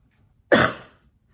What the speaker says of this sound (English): Coughing this morning.